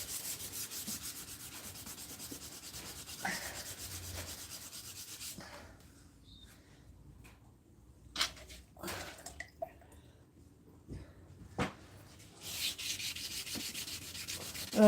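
Quiet scuffing of a surface by hand, with soft rubbing and sanding strokes at first, then sparse scrapes and knocks after a short lull, all faint and close with no talking.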